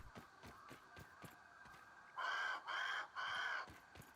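A crow in the video game Grounded gives three loud, drawn-out caws in close succession, following a faint rhythmic ticking in the background.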